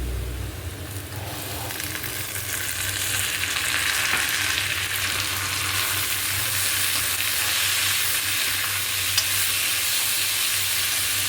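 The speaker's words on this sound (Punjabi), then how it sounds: "ਪਿਆਜ਼ ਜਿਹੜਾ ਸੀ ਆਪਣਾ ਫਰਾਈ ਹੋ ਗਿਆ ਉਸ ਤੋਂ ਬਾਅਦ ਆਪਾਂ ਪਾ ਲੈਣੇ ਆ ਲਾਲ ਟਮਾਟਰ ਤੇ ਹਰੀ ਮਿਰਚ" Red tomatoes and green chilies frying with browned onions in a pan, a loud continuous sizzle with occasional stirring, close and steady with no talking.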